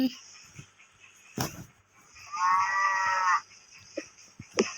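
A cow or bull in a video game lets out one loud, drawn-out moo in the middle of the stretch, set among sharp in-game clicks and thuds and a faint background hum.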